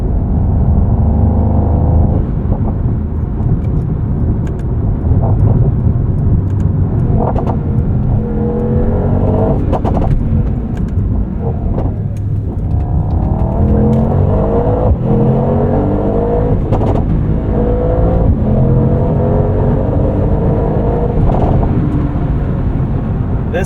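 A 2024 Mercedes-AMG GT63 coupe's V8 pulls hard under acceleration from inside the cabin, a loud, continuous deep engine roar that rises and falls with gear changes and never drops away.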